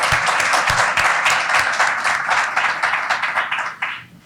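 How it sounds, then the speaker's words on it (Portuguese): An audience applauds James Walker, president of Anacrim, at a legal talk on chain of custody of evidence, with dense, steady clapping that holds loud for several seconds before thinning out near the end. "Põe uma salva de palmas também para o James."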